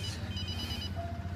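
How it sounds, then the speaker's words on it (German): A mobile phone ringtone plays, short electronic melodic tones over a low background hum, fading after about a second. "Können Sie mal das scheiß Handy ausmachen?"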